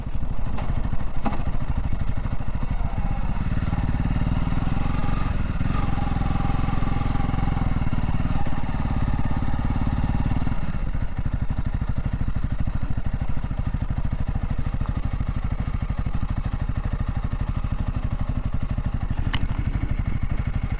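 A motorcycle engine runs continuously, a loud close rumble with some mechanical clatter, holding steady throughout.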